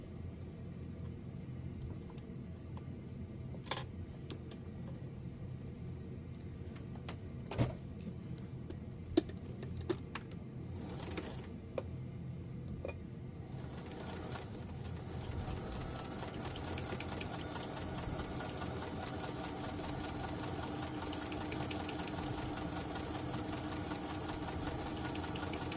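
A sewing machine runs along the bottom hem of a blouse sewn from New Look pattern 6603. The motor hums quietly with a few sharp clicks at first, then stitches in a steadier, louder whir through the second half.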